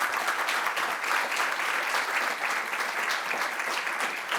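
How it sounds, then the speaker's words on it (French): An audience applauds the organizers of a data management conference, a steady, dense round of clapping throughout with no voices over it. "Moi j'aimerais qu'on applaudisse très sincèrement les organisateurs"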